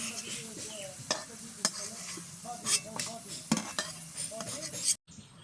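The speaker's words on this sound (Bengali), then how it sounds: "আলুগুলো খুব ভালোভাবে লাল লাল করে ভেজে নিয়েছি, এবার তুলে নেব।" Potatoes frying in a pan until browned, a continuous sizzle broken by repeated clinks and scrapes of a spoon stirring against the pan, ending abruptly.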